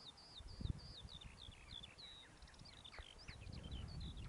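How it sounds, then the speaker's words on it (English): High, twittering song of a skylark on open upland moorland, faint and distant over a steady outdoor rustle of wind and footsteps. "I think it's a skylark."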